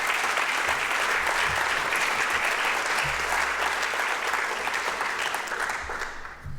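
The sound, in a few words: conference audience applause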